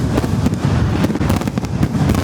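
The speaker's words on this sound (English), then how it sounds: "this is chunks of firework right here. Right there and right there. I'm hearing it like fall around us." Fireworks burst overhead at a Halloween party at a Disney theme park, a dense, loud barrage of rapid crackling explosions with falling debris, continuous and close.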